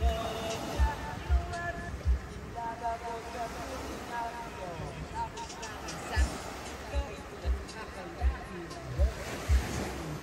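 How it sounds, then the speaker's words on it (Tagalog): Calm sea waves wash in at low tide on a resort beach, with soft regular surges and light wind under faint background voices. "Maganda naman, kalmado naman yung dagat."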